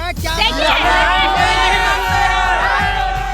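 Loud crowd of people at an outdoor election opinion gathering in Delhi, many voices shouting and yelling over each other in a dense, continuous babble close by.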